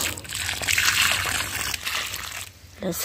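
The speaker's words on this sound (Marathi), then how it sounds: "आणि आता आम्ही त्यांना पाणी देते." Water splashing and trickling onto soil around plants in a steady pour for a few seconds, with a brief pause near the end.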